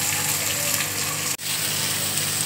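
Chopped onion hits hot mustard oil in a kadai, giving a steady broadband sizzle that runs loud and continuous, broken by one brief dip near the middle.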